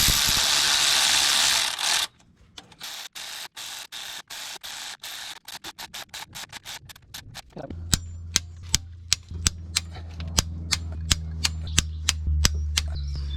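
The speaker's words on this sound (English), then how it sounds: "just gently run these down using the battery ratchet" A cordless battery ratchet spins down bolts during a Ford Kuga refit, a loud whirring run at first, then a long series of rapid ratcheting clicks that slow into sharp, evenly spaced clacks over a low motor hum.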